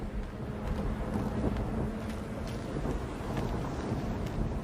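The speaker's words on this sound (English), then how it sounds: "Belfry wasn't kidding about this storm." Storm wind howling in the Gotham Knights video game, a steady broad rush of gusting air with low rumbling underneath, moderately loud and unbroken, with no talk.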